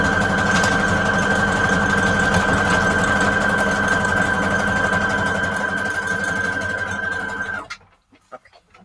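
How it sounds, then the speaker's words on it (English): A sewing machine stitches a line through thick lace on a junk journal signature, running steadily and loud for about seven and a half seconds before stopping abruptly, with a motor whine under the rapid needle chatter. "let's do another line of stitching over here"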